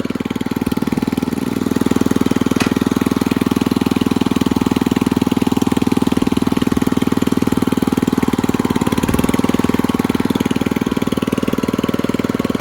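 An 87-year-old 1930s Ford transmission running in first gear, producing a loud, steady mechanical drone with a fast rattling pulse throughout, close up and continuous with no voices.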